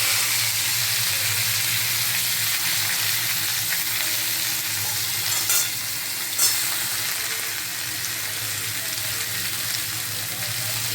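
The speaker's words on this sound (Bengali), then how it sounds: "এই করলা আলুটা ভেজে নিই" Pieces of bitter gourd and potato, coated with turmeric and salt, fry in hot oil in a home kitchen, giving a steady, close hiss and sizzle throughout with a couple of brief clinks and no talking.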